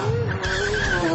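A Pagani Zonda F and a Bugatti Veyron launch at a drag race start, engines roaring and tyres squealing in a brief, loud burst, with a voice briefly audible.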